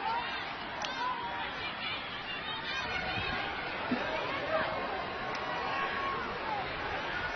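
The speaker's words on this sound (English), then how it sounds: "A little bit of crowd noise here." Crowd noise at an Australia vs USA ultimate frisbee final: a steady, distant murmur of chatter and cheering from spectators runs throughout, with no clear single voice standing out.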